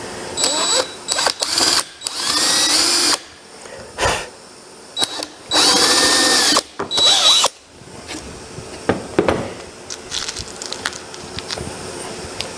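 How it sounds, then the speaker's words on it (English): A power drill driving screws into wood while building a serving tray from restoration remnants, loud whirring bursts that start and stop repeatedly, followed by quieter handling clatter. "hold this thing down with screws. I will not put a lot of screws in this thing."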